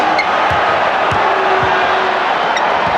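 Basketball arena crowd at a 1993 NBA Finals game between the Phoenix Suns and Chicago Bulls gives off a steady, loud roar, with a few dull ball bounces thudding underneath.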